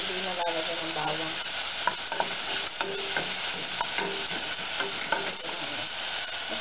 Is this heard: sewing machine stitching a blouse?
no